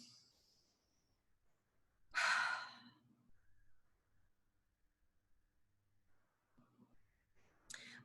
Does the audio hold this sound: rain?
no